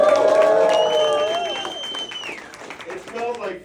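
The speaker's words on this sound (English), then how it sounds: "Come make some noise!" A crowd at an Alano club comedy set cheers and claps in a dense, steady roar, with someone talking loudly over a microphone on top of it.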